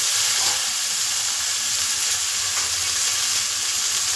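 Onion, green chillies, potato and vegetable stalks frying together in a pan, a loud, steady sizzle with no talking over it.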